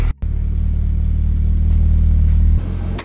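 Tuned Fiat Uno Turbo ie with over 200 hp running, its engine holding a loud, steady low rumble close by, briefly cut at the start and dropping to a slightly lower idle near the end.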